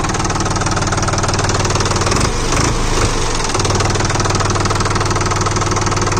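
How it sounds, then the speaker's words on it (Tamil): A close, loud engine idles with a steady chugging knock, then briefly revs up and the sound changes around the middle before it settles back to a constant idle. "இன்ஜின் சவுண்டு பாருங்கள்."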